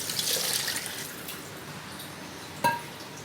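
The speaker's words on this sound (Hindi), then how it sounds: "इसके बाद हम इसमें पानी ऐड कर देंगे" Water pours into rice in a cooking pot for matar pulao, a soft continuous splashing stream that fades, followed by a brief clink near the end.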